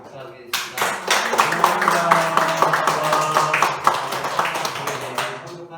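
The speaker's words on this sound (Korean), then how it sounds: "다 함께 환영하시면서 박수하시겠습니다." A church congregation breaks into warm applause during a Sunday service to welcome first-time visitors, many hands clapping together for several seconds before tapering off.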